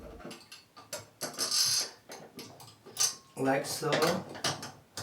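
A tub drain linkage being screwed back into place, giving small metallic clicks and ratchet-like turning sounds interspersed with talk nearby.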